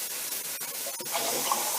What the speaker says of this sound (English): I'm going to fill this tin up with a bit of water.